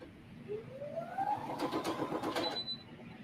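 A domestic sewing machine runs in a short steady burst, its needle chattering rhythmically while stitching an angled seam on a quilt-as-you-go table runner.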